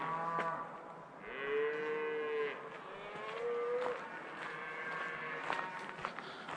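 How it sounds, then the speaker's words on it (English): Cattle mooing all around a campsite along Forest Road 144 in Coconino, several drawn-out lowing calls overlapping at moderate distance, with faint footsteps and rustling in the background. "There are cattle everywhere."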